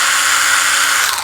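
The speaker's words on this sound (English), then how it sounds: "Or another personal favorite of mine is the little mini chainsaw. They call it a pruner." A small Stihl battery-powered mini chainsaw pruner runs steadily up close, a loud high-pitched motor whine with a sustained buzzing tone that dips slightly at the very end.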